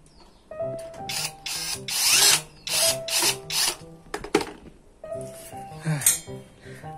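An electric drill whirs in repeated short bursts as screws are driven into a PC case, with clinks of small metal parts between runs, recorded close up.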